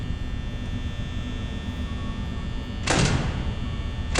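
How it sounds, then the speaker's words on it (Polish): A door shuts with a brief thud and rattle near the end, over a constant electrical hum. "Jakie szczęście, że drzwi zamknąłem."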